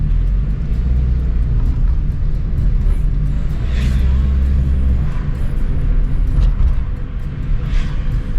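A food delivery vehicle cruises at about 50 km/h along a road in Japan around dusk, giving a steady, loud low rumble of engine and road noise that runs unbroken throughout with a couple of faint passing hisses.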